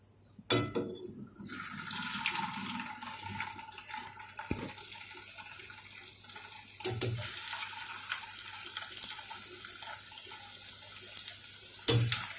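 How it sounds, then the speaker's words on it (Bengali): A steady, crackling sizzle of potato fingers deep frying in hot oil, close up and continuous, with no talking. "এরপরে আমি এগুলোকে তেলে ভাজবো"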